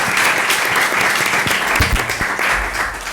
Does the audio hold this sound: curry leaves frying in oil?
no